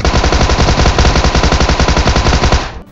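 Rapid automatic gunfire in the mobile shooter game BGMI, a loud, dense stream of evenly spaced shots that continues without a break, then cuts off sharply near the end.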